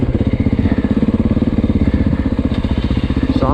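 A 2024 Beta 480 RR off-road motorcycle pulls hard in third gear with the throttle wide open, its engine giving a loud, rapid, pulsing roar close by that climbs in pitch near the end.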